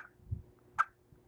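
A hand-held turkey call imitates a wild turkey hen's cluck, giving a single faint, short, sharp note against a quiet background.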